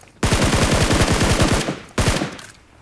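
Rapid automatic gunfire in a shooting video game set in a haunted castle: a loud, close burst of about a second and a half, then a shorter second burst trailing off.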